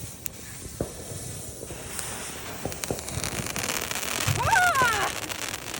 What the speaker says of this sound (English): It's Neon Glow Sword by TNT Fireworks.